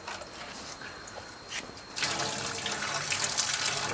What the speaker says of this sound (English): You want to put a little bit of water on there?